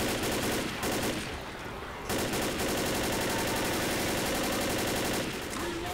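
Dense, loud automatic gunfire from the zombie shooter Left 4 Dead fills nearly the whole stretch, a continuous rattling barrage with a brief slackening in the middle before the shooting resumes at full intensity.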